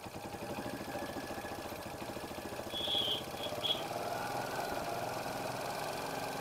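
TVS Star Sport motorcycle engine idling steadily during RPM tuning, a low even running hum that holds level throughout with a slight swell near the middle, fairly quiet and with no talking.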